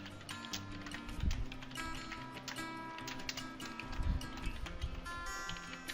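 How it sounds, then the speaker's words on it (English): Quiet, irregular clicking of computer keys, soft rapid taps in uneven bursts over faint background hum, with no talking. "so I'm just typing my all the details here."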